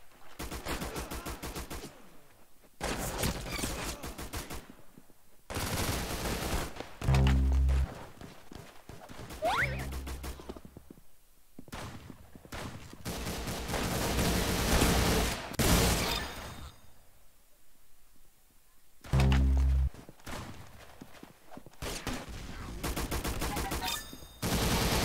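Rapid bursts of gunfire from the shooter video game Arsenal, with repeated loud volleys and single shots spread across the stretch, broken by short pauses and a few heavy thuds.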